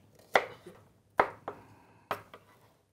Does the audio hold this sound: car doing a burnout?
no